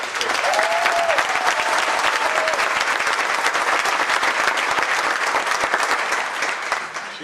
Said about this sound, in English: you need to give her an incredible round of applause